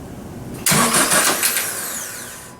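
A supercharged Honda CR-Z with a cold battery cranks briefly and then catches, its engine bursting to life close by and settling into a steady running note.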